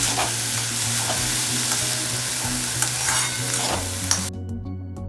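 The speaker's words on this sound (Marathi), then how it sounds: "टोमॅटो, पनीर हे सगळं बटरमध्ये परतून घ्यायचं।" Tomato and paneer with onion and capsicum sautéing in butter in a pan make a steady, close sizzle with light stirring scrapes throughout, cutting off sharply near the end.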